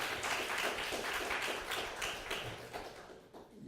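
Audience applause fills a lecture hall at Chungnam National University: a dense, steady wash of many hands clapping at moderate distance, fading slightly toward the end.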